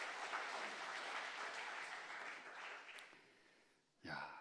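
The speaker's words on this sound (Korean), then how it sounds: "우리 박수 한번 주실래요?" A church congregation applauds during an afternoon service, a steady round of clapping that gradually fades before a voice speaks at the end.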